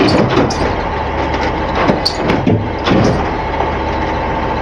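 A truck's bed winch straining to pull a shipping container, heavy engine idle and mechanical groaning throughout, with occasional clanks and knocks standing out close by.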